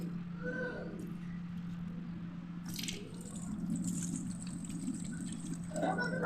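Sago pearls being washed by hand in a bowl of water, with close, steady swishing and sloshing over a low constant hum and a brief clatter near the middle.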